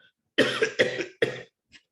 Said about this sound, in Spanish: Perdón, que tengo un poco de tos